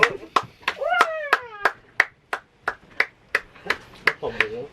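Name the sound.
players clapping hands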